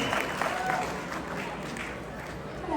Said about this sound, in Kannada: ಎಲ್ಲರಿಗೂ ದೊಡ್ಡದಾಗಿ ಚಪ್ಪಾಳೆ ಮಾಡಿ